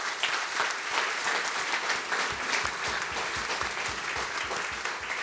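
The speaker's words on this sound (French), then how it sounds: "Nous pouvons nous applaudir" The congregation at a Christmas Eve mass at Collège Lorette de Quatre Bornes bursts into close, lively applause. Many hands clap in a thick, crackling rhythm for about five seconds, with no speech.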